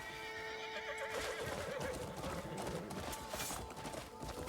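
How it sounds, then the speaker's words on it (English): A horse in the video game Crimson Desert whinnies loudly while hooves clatter rapidly underneath, a busy galloping rush that continues throughout. "How do you slow down the horse?"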